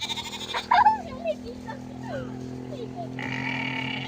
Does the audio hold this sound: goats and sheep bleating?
yes